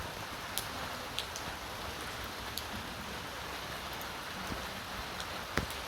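Steady soft rain hiss during a monsoon shower, with a few faint drop ticks scattered throughout and no voices.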